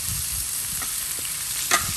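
Garlic butter shrimp frying in a pan, a steady close hiss of sizzling fat with faint pops and soft scrapes, and one brief sharper crackle near the end, no voices.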